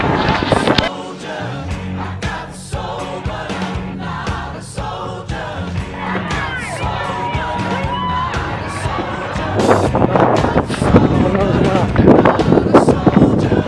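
Strong wind buffets the microphone during a city marathon run, a continuous rough roar with crowd noise and cheering in the background and runners' talk over it.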